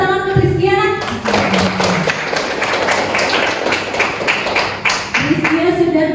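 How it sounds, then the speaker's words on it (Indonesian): A classroom of students claps for a classmate, a dense burst of many hands lasting about four seconds. A voice talks just before the applause and again as it fades out. "Boleh tepuk tangan untuk Rizkia?"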